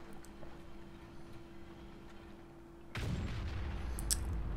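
Tank cannon shot in World of Tanks: one abrupt heavy boom cuts through a quiet engine hum, and a sustained louder rumble with a few faint crackles follows.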